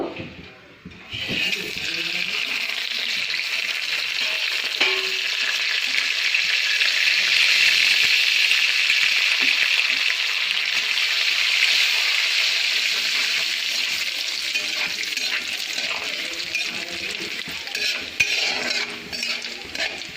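Whole garam masala frying in hot oil left from frying potatoes for alur dum, a loud continuous sizzle sustained throughout with faint occasional utensil clinks.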